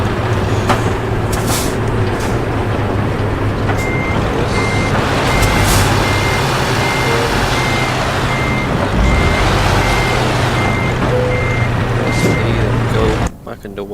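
A truck reverses in Euro Truck Simulator 2, its steady reversing beeper pulsing over a constant engine drone and road rumble, with a brief air-brake hiss near the end.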